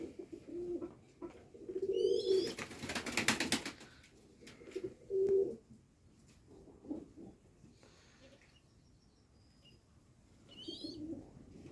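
Pigeons, including yellow and white-headed birds, coo softly in low, rolling phrases at a pigeon loft, with a brief flutter of wings and some faint chirps in a quiet setting.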